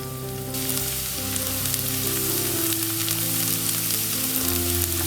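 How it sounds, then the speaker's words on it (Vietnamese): Garlic frying in about three spoonfuls of reused cooking oil in a pan, a steady close sizzle that swells after the first half second and continues evenly throughout, with no talking. "dùng luôn dầu ăn vừa mới chiên thêm vào khoảng 3 thìa. Và cho tỏi vào phi vàng lên."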